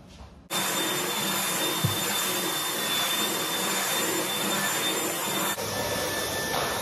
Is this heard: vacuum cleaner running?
yes